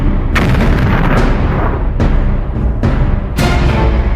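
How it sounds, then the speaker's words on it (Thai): Loud, booming sci-fi blasts strike in quick succession, several heavy explosive bursts over a constant roaring, crackling rumble. "แรงระเบิดสาดสะเก็ดเหล็กกระเด็นใส่ผนัง"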